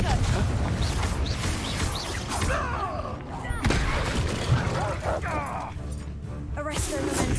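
Confringo blasting spells go off in the Hogwarts Legacy video game, with repeated explosive bursts and crashes over a busy combat mix while a voice calls out spell names between hits.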